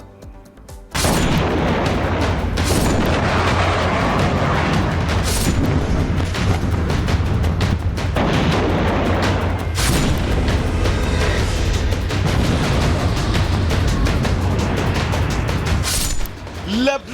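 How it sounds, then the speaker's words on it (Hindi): Airstrike explosions in Lebanon make a dense, loud roar, punctuated by several sharp booming blasts spaced seconds apart. "लेबनान के अल जबोर हाइट्स पर धमाका।"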